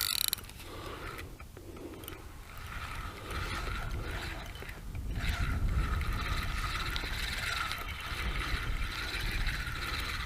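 A feeder fishing reel is wound in after a long cast at a match-fishing festival, giving a continuous mechanical whirring and clicking close by that grows slightly louder as the winding goes on, with no talking.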